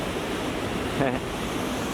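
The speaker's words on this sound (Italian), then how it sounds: "E qua il fiume continua il suo corso." The Alcantara river rushes through a gorge of eroded volcanic rock, a steady, broad wash of flowing water that stays constant throughout.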